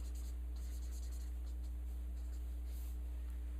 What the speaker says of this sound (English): So I'm going to write salesman.